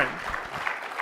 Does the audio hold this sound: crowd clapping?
yes